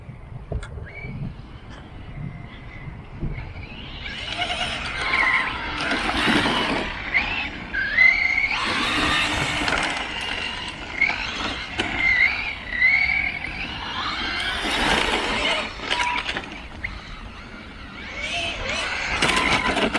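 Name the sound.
Reely Deathwatcher 6S RC car drifting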